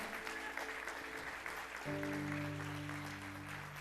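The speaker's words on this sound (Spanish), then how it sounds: "dale ese aplauso fuerte al Señor" A church congregation applauds loudly at a Sunday morning service, a dense wash of clapping that continues as sustained organ or keyboard chords enter halfway through.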